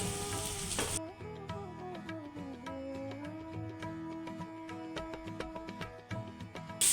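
Chopped tomatoes, ginger and green chili frying in oil for a Bengali rui fish curry, a steady close sizzle with light stirring clinks, a brief loud burst at the start and end.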